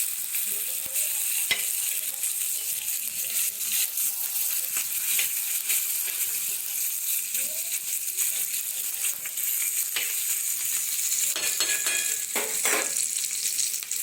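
Onion fries in oil in a pan, a soft continuous sizzle with occasional stirring scrapes and clicks, fairly quiet and close, with no talking.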